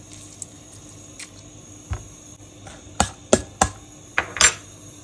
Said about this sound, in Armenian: Այսպես կիտրոնի հյութը լցնում ենք